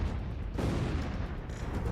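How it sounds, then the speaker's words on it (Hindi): Continuous heavy low rumbling blasts of Russian artillery fire during the Russia-Ukraine war, dense and booming with no pauses, loud and fairly close. "रूसी सेना तोपों से फटाफट गोले दाग रही है।"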